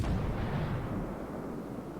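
A battleship's main guns fire in the naval combat game World of Warships, a single deep booming blast that rolls off into a fading rumble, fairly faint and heard alone.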